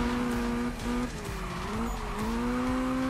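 A car braking hard in Need for Speed (2015): a loud, sustained tire squeal wavers in pitch over a steady engine rumble, close and continuous throughout, with no voices.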